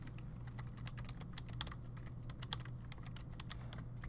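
Steady clicking of computer keys as someone types at a keyboard, a continuous stream of quick, close taps with a low hum in the background and no talking.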